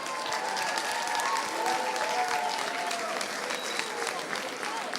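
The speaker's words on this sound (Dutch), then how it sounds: "Maar ik zou toch graag een applaus hebben voor de jury van vanavond." Audience applause for the jury at a live talent show finale, steady dense clapping from a large crowd filling the whole stretch, with a few faint voices mixed in.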